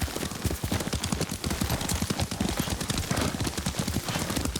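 Rapid, steady hoofbeats of a galloping horse in the Ghost of Tsushima video game, close and continuous with a dense rhythmic clatter, with no talking.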